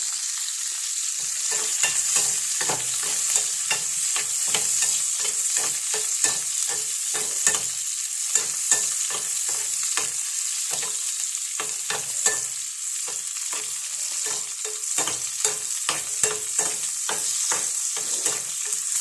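Onions and chillies fry in hot oil in a home kitchen, a close steady sizzle broken by repeated scraping stirs of a spoon against the pan.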